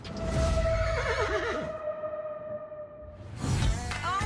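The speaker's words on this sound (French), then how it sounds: "Je vois des chevaux" A horse on a ranch lets out a loud, quavering whinny lasting over a second, with a second shorter whinny and snort near the end, no voices present.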